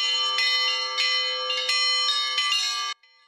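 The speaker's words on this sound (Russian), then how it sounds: "колокольный звон оживляет размеренную тишину с недавнего времени" Orthodox church bells of the Annunciation church at Korotchaevo ring in a bright cluster of overlapping, clanging strikes in an uneven rhythm, clear and moderately loud, then cut off abruptly near the end.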